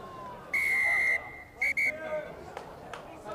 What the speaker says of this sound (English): a double blast on the whistle from the referee